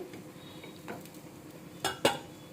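Oats cutlets frying in a pan, with a soft steady sizzle, a few light utensil scrapes and two sharper clinks near the end, no voices.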